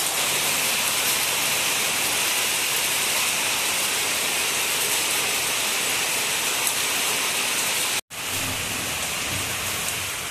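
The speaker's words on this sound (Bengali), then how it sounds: "কেমন ঝমঝম করে বৃষ্টি চলে আসলো।" Heavy rain pours down steadily outside a home, a dense loud hiss that holds constant before a brief cut near the end, then resumes just as strongly.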